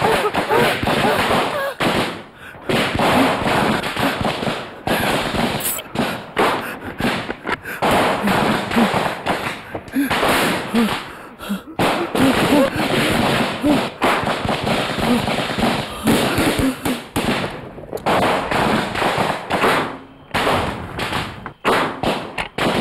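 Gunfire in a Bengali TV crime drama, a dense rapid series of sharp cracking shots running loud and continuous for a long stretch, with shouting voices mixed in.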